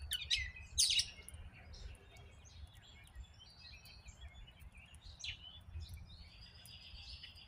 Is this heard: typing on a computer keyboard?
no